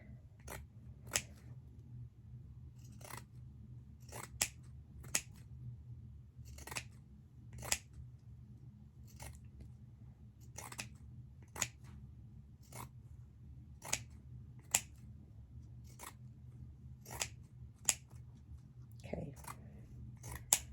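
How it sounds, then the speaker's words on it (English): Sharp scissors snip fringe into double-layer fleece fabric for a hat and scarf, about seventeen crisp, evenly spaced cuts close by over a quiet room, with no talking. "You want to cut pretty close down to the seam line, but you don't want to cut through the seam."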